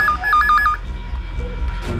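A telephone rings in a tense police drama, giving a quick string of electronic double tones for under a second before the line cuts to muffled background noise.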